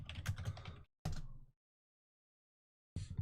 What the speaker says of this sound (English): Here's Illumio typing right now.